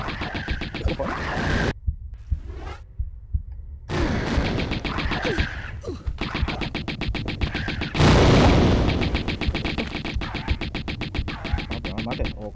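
Gunfire in the 1996 video game Tomb Raider, Atlantis level: dense rapid shots repeat through most of the stretch, broken by a short quiet gap, loud and close with game ambience.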